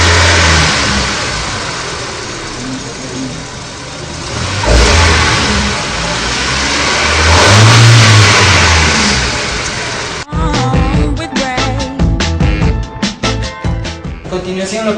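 A gasoline fuel-injected car engine revs hard and close, rising and falling in pitch during a sensor test before settling into a choppy, pulsing idle.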